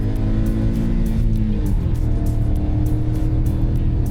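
Heard from inside, a car engine climbs in pitch toward redline, drops sharply on an upshift around the middle, then winds up again in the next gear with a loud, continuous roar.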